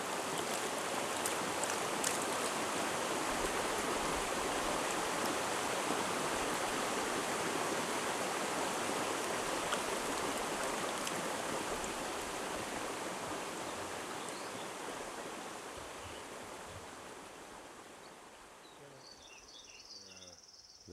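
A creek at a gold prospecting site flows in a steady rushing wash that holds for most of the stretch and then fades slightly toward the end. Insects chirp faintly underneath, and no one speaks.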